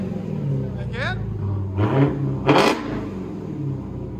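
A Dodge Charger Hellcat with a supercharged 6.2L HEMI V8 and an aftermarket exhaust revs lightly in a few short blips over a low idling rumble, with people talking nearby.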